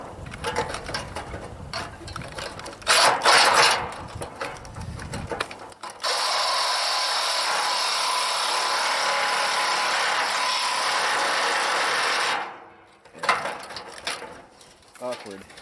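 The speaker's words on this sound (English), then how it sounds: "The sawzall's worn out and the battery doesn't stick anymore." Worn-out battery-powered sawzall cutting into a camper trailer during stripping, a loud sustained buzzing cut lasting several seconds after scattered clanks and handling knocks, then stopping abruptly with more clatter after.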